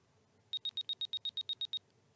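An OpenTX radio transmitter gives a rapid run of about eleven short, high, evenly spaced beeps on leaving its menu, clear and close with no voices.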